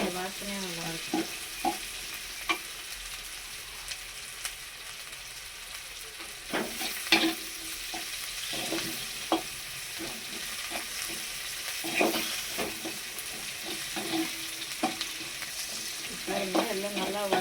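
Garlic, onion and shallots sautéing in a pan for a Tamil-style dried-fish kuzhambu, with a steady oily sizzle under repeated scraping, clattering stirs of a spoon against the pan.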